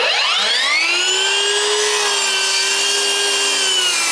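A miter saw cuts wooden top plates at an angle, a loud, close, steady whining blade with a rising pitch as it bites through the wood, heard alone without talk.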